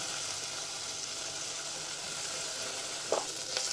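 Sliced onion sizzling in oil for a Tamil tomato kadayal, a steady broadband hiss throughout with a couple of brief clinks near the end; no voices.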